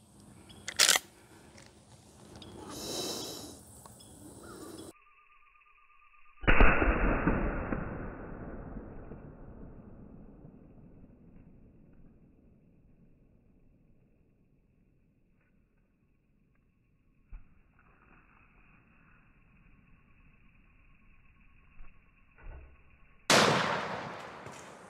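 Single sharp report of a .44 Magnum Winchester 1892 lever-action firing a 225 grain Barnes Expander into a can of tomatoes outdoors, followed by a long decaying echo and scattered faint clicks and handling noise.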